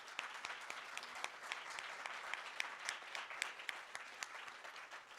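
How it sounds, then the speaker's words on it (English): Quiet, distant applause rises from a summit audience at a Ukraine advocacy panel session, a steady patter of many hands with a few sharper claps standing out. "So big applause."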